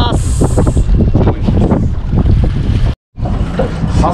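Steady north wind buffeting the microphone at sea on a fishing boat, a continuous blustery roar with engine rumble beneath, while people talk over it throughout and a brief dropout cuts the sound near the end.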